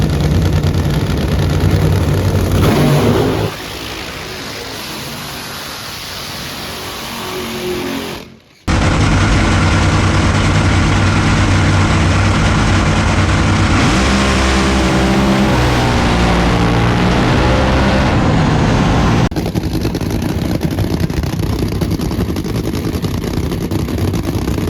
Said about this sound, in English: They're about to light off the first pair of funny cars